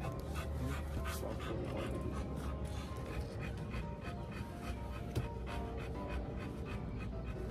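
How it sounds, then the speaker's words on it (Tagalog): A dog pants steadily and close to the microphone, a fast continuous rhythm of breaths over low background noise, with no talking. "Ready ko naman ang hingal ni Kiki"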